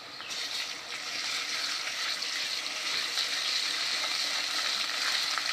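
Ginger garlic paste hitting onions already fried red in a pan for egg korma, a dense continuous sizzle and spatter that holds steady and fairly loud from start to finish, no voices.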